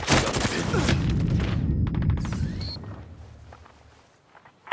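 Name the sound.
enemy gunfire in the video game Ghost Recon Breakpoint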